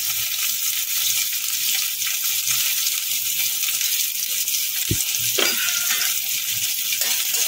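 Chopped onion frying in a pan, a continuous bright hiss of sizzling oil with a couple of brief clinks and stirs, close and steady, no voices.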